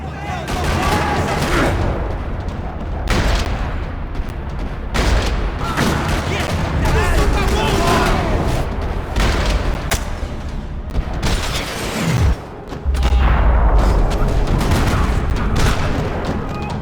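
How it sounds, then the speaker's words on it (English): Gunfire crackles through a parking lot in the video game Max Payne 3, with repeated bursts and booming shots across the stretch and a loud blast near the end, while a voice speaks over parts of it. "Another parking lot rattling with gunfire."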